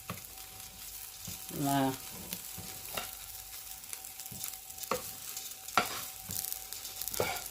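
Basmati rice is stirred and sautéed in a pan, with scattered scraping and clinking of a utensil and a soft sizzle, while a voice speaks briefly.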